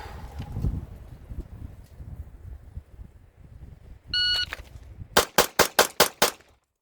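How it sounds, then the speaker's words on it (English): A Smith & Wesson M&P 2.0 Metal pistol fires a rapid string of about seven loud, crisp shots at even intervals, preceded by a shot-timer beep, on an otherwise quiet range. "let's just shoot it"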